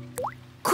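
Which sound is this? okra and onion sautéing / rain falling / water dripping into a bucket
water dripping into a bucket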